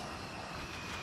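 Steady airplane engine drone in The Forest video game, a constant broadband roar with no breaks, fairly faint and even throughout the short stretch.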